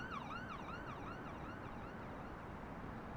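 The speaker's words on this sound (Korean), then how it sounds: "어디서 사이렌 소리가 들려왔다" A wailing emergency vehicle siren in a horror radio drama rises and falls in repeated sweeping cycles, fairly distant and faint, fading out over a low road rumble.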